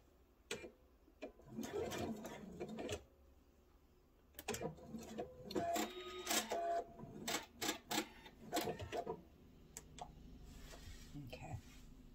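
A sewing machine stitches back and forth on the back panel of a pillow with a hidden zipper, running in several short bursts with pauses between them, close and moderately loud.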